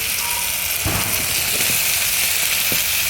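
Star fruit pieces lightly frying in a pan with softened tomato for chutney, a steady loud sizzle with a few clacks of a utensil against the pan.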